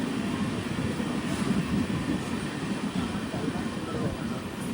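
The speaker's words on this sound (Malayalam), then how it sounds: "ട്രെയിൻ ഇപ്പോൾ കൊയിലാണ്ടി റെയിൽവേ സ്റ്റേഷനിലേക്ക് ഇതാ എത്തുകയാണ്" The Kannur–Yesvantpur Express pulls into Koyilandy railway station in Kerala with a steady, loud low rumble and rolling rail noise that holds throughout, with no clear horn or break.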